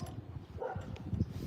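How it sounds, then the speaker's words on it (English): A neighbor's dog barks a few times in a residential backyard, short low yaps heard at a distance, faint against the outdoor background. "That's a neighbor's dog."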